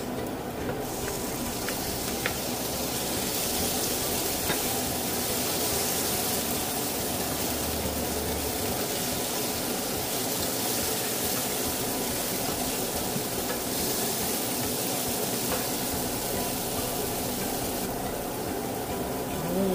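Tomatoes sizzle in a pan with sautéed onion and garlic, a steady close frying hiss with stirring clatter throughout, no voices over it.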